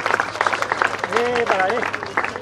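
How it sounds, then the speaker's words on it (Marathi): Applause rings out at a school annual prize distribution, steady clapping from an assembled audience running throughout while a voice talks over it. "टाळ्यांचा गजर कंटिन्यू केला"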